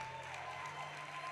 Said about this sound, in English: let's give them another hand clap of praise for the hard work